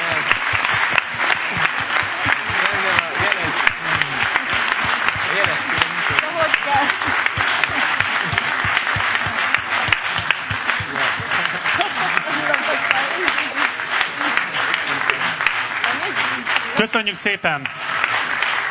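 A crowd at a political event of Hungarian opposition parties claps in a long, loud, sustained ovation, steady and dense from start to finish, with a voice briefly speaking near the end.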